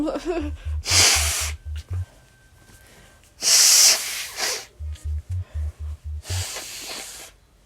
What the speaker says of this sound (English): which I need to blow my nose again.